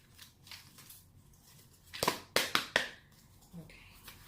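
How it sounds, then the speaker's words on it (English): A quick burst of crisp, riffling card snaps, four or five sharp rustles close up after a quiet stretch, with a faint voice in the background. "I'm just going to give it one good shuffle"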